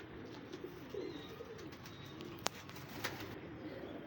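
Golden pigeons cooing softly in a low, continuous murmur, with one sharp click partway through and no voices.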